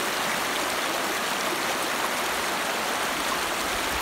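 Water from a pond overflow after heavy rain pours steadily over the ground, a continuous close rushing stream with no other sounds.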